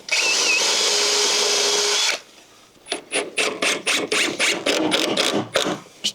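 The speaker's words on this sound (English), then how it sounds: "I'm just going to go and do the first screw in there" Power drill driving a screw into a deck board over a concrete slab: a loud continuous whir for two seconds, then a series of short bursts of drilling and clicking, close up.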